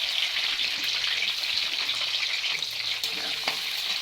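Torn green chillies and capsicum fry in hot oil in a pan while masala paneer is being cooked, giving a close, steady crackling sizzle with light stirring.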